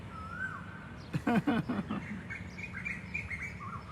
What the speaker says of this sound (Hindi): कोयल भी अब कूक रही है, आज देखिए कोयल की भी आवाज़ आ रही है